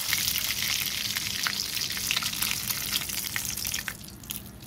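Prawns sizzling in hot oil in a pan while cooking a prawn malai curry for biryani, a steady close hiss with crackling spits throughout and no talk.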